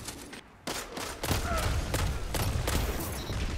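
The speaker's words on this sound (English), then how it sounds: "There's a explosion" Gunfire and an explosion in Destiny 2 PvP play with a Dragonfly scout rifle: a series of sharp shots, then sustained loud rattling fire and blasts that fill most of the stretch.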